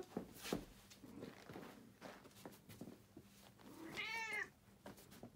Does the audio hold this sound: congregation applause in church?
no